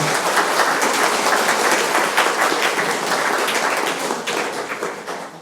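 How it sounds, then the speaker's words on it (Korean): An audience at a Franciscan spirituality academic presentation applauds to welcome two speakers, a dense, steady wash of many hands clapping that fills the whole stretch and tapers slightly at the end. "먼저 박수로 김미정 안혜수 순회님 맞이하겠습니다."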